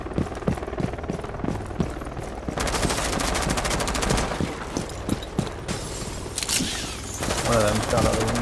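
Automatic gunfire in Rainbow Six Siege during a Bank team deathmatch, loud rapid bursts with brief gaps over ongoing game ambience and a voice talking.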